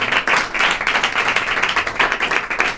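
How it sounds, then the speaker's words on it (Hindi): Audience clapping at a coaching centre in Hansi, a dense, steady patter of many hands lasting a few seconds, close and fairly loud with no talk over it. "लिए तालियां बजाइए"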